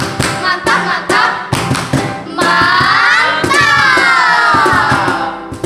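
A group of children at a Sunday school service claps in a quick patterned rhythm, sharp claps alternating with a sustained cheer or shout from the group.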